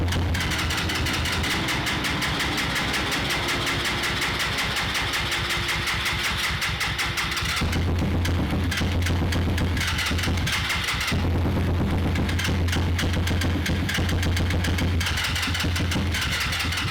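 Free motorcycle being revived for a budget scrambler build, its engine cranking and catching, then idling with a fast, rough, loud putter close by, dropping and surging in revs a couple of times.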